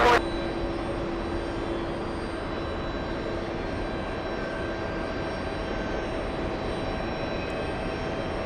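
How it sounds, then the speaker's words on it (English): Boeing 767 taxiing to the gate at JFK Airport, a steady engine whine and hum with faint tonal lines, continuous at moderate distance after a brief bump at the start. "767 taxiing to the gate. This one is the one flying in from Copenhagen."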